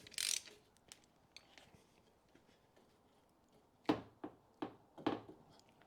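Ratchet tightening a plastic oil filter housing on a 2020 Ford Ranger 2.0 diesel, faint scattered clicks and a few quick clustered ratcheting bursts near the end, close and quiet with no talk.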